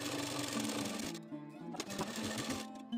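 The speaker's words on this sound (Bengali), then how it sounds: "নিচে রেখে সাইড দিয়ে সেলাই করে নেব।" Sewing machine stitching blouse lining fabric together, a steady fast mechanical chatter with a brief pause midway, heard up close and alone.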